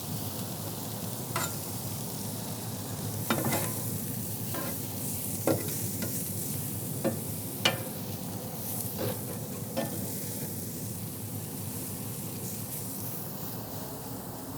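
Onions and peppers sizzle in rendered pork belly fat for a cheesesteak, a steady soft frying hiss with occasional sharp pops and stirring clicks, heard close.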